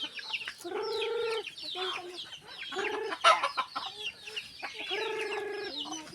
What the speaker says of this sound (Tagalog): Yung mga sisiwan.